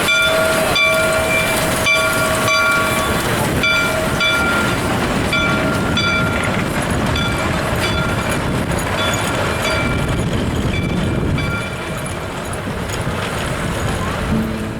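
A logging train on the Cass Scenic Railroad in the West Virginia mountains rumbles steadily and loudly throughout, its dense mechanical roar broken by rhythmic clanks.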